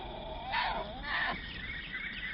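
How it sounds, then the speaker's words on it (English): Two short, wavering cries from hungry bear cubs, a bawling call followed by another a moment later, heard against a quiet outdoor background. "There's a cub, or maybe even two cubs, and it or they sound hungry."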